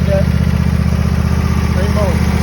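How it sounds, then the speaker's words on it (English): The 24-horsepower engine of a Husqvarna Z254 zero-turn mower with a 54-inch deck runs at a steady idle, a loud, even low throb with a regular pulse, while someone talks over it. "That is the 24 horsepower Husqvarna Z254."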